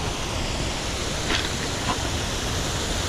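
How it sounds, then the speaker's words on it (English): Steady broadband rush of falling water, like a nearby waterfall, continuous and fairly loud with no talking. "There's a waterfall over here."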